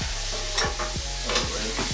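A New York strip steak sizzles steadily in a pan just after being turned, a loud continuous frying hiss with a few scraping stirs or utensil knocks over it and no talking.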